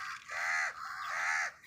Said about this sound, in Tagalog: ang daming uwak